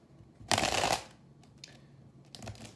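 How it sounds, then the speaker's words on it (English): A loud riffle shuffle of tarot cards near the start, followed by softer card taps and another quieter shuffle toward the end. "All right, 2 more shuffles."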